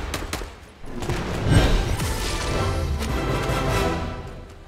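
A burst assault rifle fires in Fortnite in rapid, repeated gunfire bursts. The shots are loud and close and layered over the game's background sound.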